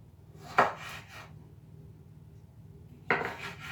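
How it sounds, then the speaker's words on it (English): A kitchen knife slices through tomatoes on a cutting board, giving two distinct close chopping knocks about two and a half seconds apart, each with a short scraping tail, over a quiet room. "Just cut them up a bit and just put them inside the blender."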